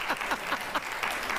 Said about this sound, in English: Let's see if they clap.